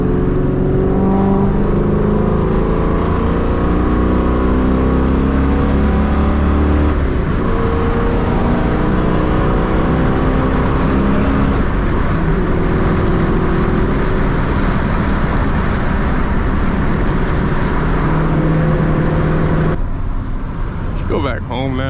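Straight-piped 2003 Ford Mustang GT V8 engine heard from inside while driving in traffic, a loud steady drone and rumble that rises and falls with the throttle, with someone talking over it throughout.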